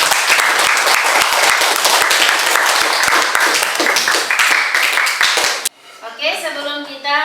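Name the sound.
classroom applause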